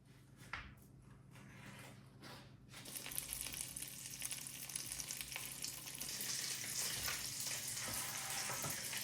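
Butter for fried rice dropping into a hot pan: a few quiet knocks and clicks, then a dense sizzle that rises and holds steady, close and fairly faint.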